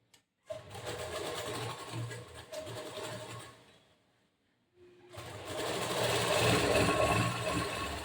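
A sewing machine stitches a boat-neck blouse in two steady close runs, a whirring mechanical rattle that stops briefly midway and then resumes, slightly louder and faster.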